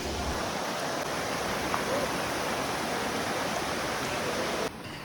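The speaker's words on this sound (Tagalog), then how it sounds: "At eto na nga ang Cambogahay Falls na napakataas" Cambugahay Falls on Siquijor Island roars steadily as a broad, dense rush of falling water, close and constant, dropping slightly in level near the end.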